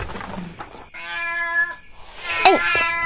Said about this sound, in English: 8 yowling cats arched their backs and fled